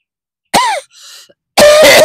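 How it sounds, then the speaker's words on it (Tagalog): A single person coughs and clears their throat, two harsh close bursts with a brief gap between them. "Natural lang yun sa ubo-ubo."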